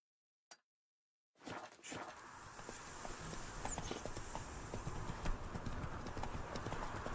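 Roach, the horse in The Witcher 3, trots along after a short silence, with rhythmic hoof clip-clops repeating steadily over loud ambient game noise and the odd snort.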